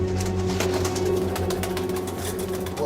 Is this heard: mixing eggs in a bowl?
no